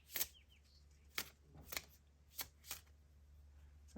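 An oracle card deck being shuffled by hand in several quick, crisp riffling bursts spaced about half a second apart, close and fairly quiet, with no talking.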